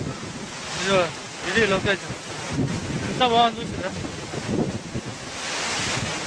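Gundala waterfall pours with a steady, broadband rushing roar that fills the whole stretch, while people talk and exclaim close by over the constant water noise.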